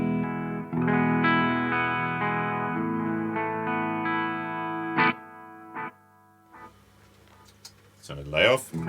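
A clean electric guitar through a Boss MZ-2 Digital Metalizer pedal strums sustained chords that ring and decay, then a few brief plucked notes follow before a voice begins speaking at the end.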